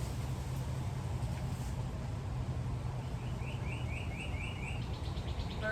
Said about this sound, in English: Birds are cheering us on, thank God, like Sherry Rosenberg said